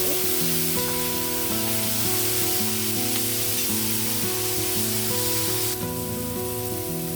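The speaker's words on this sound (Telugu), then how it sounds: "ఇదిగోండి, ఉల్లిపాయలు కొద్దిగా వేగాయి. కొంచెం ఒక 1/2 టీ స్పూను అల్లం వెల్లుల్లి పేస్ట్ వేసాను." Onions with ginger-garlic paste fry in a pan for a banana flower fry, giving a steady, close sizzle throughout with a tonal musical backing layered over it.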